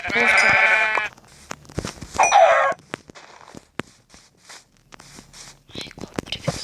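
A sheep bleats loudly and nearby in wavering, vibrato cries, first a long call and then a second shorter one, followed by rustling and clicking handling noises.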